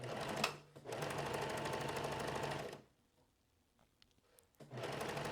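A domestic sewing machine stitches fabric in two steady whirring runs, loud and close, broken by a quiet pause with faint handling clicks.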